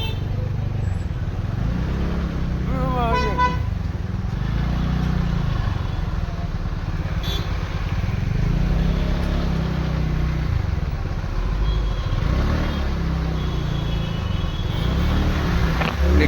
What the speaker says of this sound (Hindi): पूरा फुल हेवी ट्राफिक देखिपारे गाड़ी लाइन लगी गाड़ी